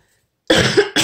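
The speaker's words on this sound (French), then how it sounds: "je vais tousser souvent parce que je vous le dis, j'ai un de ces mal de gorge" After a moment of silence, a person with a sore throat coughs harshly nearby, two rough bursts in quick succession.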